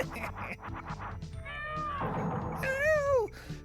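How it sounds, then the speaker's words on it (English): Meowing fish creatures in a video game give several short cat-like mews, then longer wavering meows, ending in one loud drawn-out falling meow over faint background noise. "These are meowing fish."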